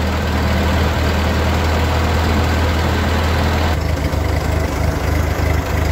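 A Ford 8N tractor engine idles very slowly at about 400 RPM while it warms up before carburetor and governor adjustments. It gives a steady, close, low rumbling chug for the whole stretch, with no talk.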